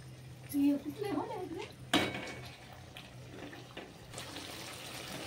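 Stuffed eggplants are stirred into masala in a pan, giving soft scraping and clinking of a spoon against metal, with one sharper knock, under a faint hum and brief muffled voice sounds.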